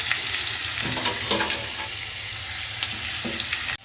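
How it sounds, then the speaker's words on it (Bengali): Tomatoes hit a hot wok with a loud, steady sizzle and spatter, and stirring scrapes mix in until it cuts off abruptly at the end. "এখন কড়াইয়ের মধ্যে টমেটোটা দিয়ে দিচ্ছে মা।"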